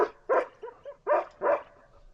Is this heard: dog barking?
yes